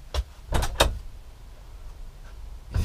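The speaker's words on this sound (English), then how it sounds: "So I'm going to open the shed door." A shed door is handled, with a few sharp knocks and rattles in quick succession. After a quiet pause, another clunk follows. All of it is near and fairly loud, with no talking.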